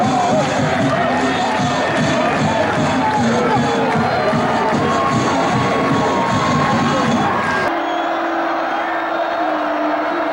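A sellout football crowd roars and cheers as the Colonels kick off. The loud, dense cheering carries on for about eight seconds, then cuts to a steadier, quieter background hum.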